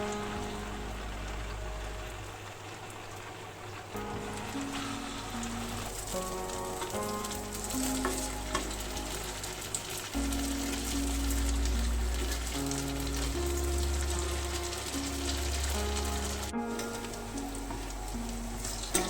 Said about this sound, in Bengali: আমি এখানে কোপ্তাগুলোকে লাল লাল করে ভেজে নিচ্ছি